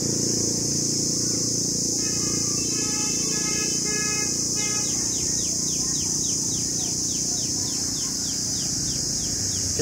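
Grasshoppers in a small backyard vegetable garden beside a netted fence keep up a steady, high, dense chirring, with a faster pulsing trill partway through and no talk over it.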